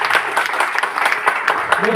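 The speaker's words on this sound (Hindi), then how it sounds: "तो मैं चाहता हूं ऐसे दमदार लीडर के लिए जोरदार तालियां।" Loud, dense audience applause for a speaker at a motivational talk, a crowd clapping steadily and close by for the whole short stretch with no voices over it.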